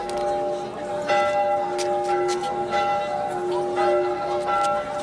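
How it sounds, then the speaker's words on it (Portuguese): Church bells ring in overlapping, sustained peals, their tones blending into a resonant chime that carries steadily throughout. "Os sinos confundiam os seus toques a chamar os fiéis"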